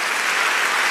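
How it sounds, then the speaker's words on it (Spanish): A church congregation gives a dense, loud burst of applause during a Spanish-language broadcast service, a continuous wash of many hands clapping with no gaps. "Dele aplauso al Señor."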